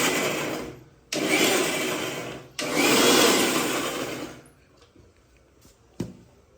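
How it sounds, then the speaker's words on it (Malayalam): A mixer grinder blitzes pineapple in loud whirring bursts, first a short pulse, then a longer run that slows and fades, with a faint clatter afterward. "അപ്പോൾ അടുത്തത് പൈനാപ്പിൾ മിക്സിയിൽ വെച്ച് അരയ്ക്കാൻ പോവാണ്."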